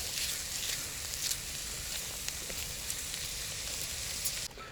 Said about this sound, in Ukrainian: І смажимо